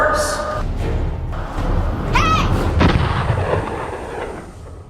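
A single loud gunshot cracks out during a staged robbery scene, a sharp close blast with a ringing tail and surrounding rumble, with voices speaking around it.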